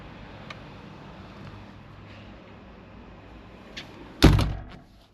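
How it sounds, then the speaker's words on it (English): A hotel room window in central Málaga, Spain, is opened: one solid clunk of the latch and frame, trailed by a short rattle, after a stretch of quiet room tone. "I can open the windows like so."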